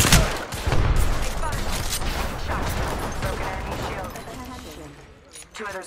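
Rapid gunfire in Apex Legends, a dense stream of close shots and clattering bursts for several seconds, tapering near the end, with a voice talking over it.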